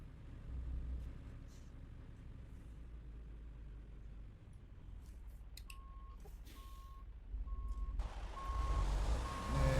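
Truck hauling a 53-foot trailer backs up in American Truck Simulator, its steady reversing beeper pulsing evenly over a constant low engine rumble that swells louder toward the end.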